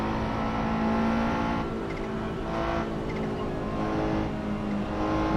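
A race car in a sim racing game runs a track beside a highway, its engine holding a steady loud drone along a short straight, then the pitch dips as it brakes hard toward a right-hand hairpin, with no voices.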